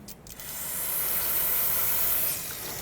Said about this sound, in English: Spray this down gently.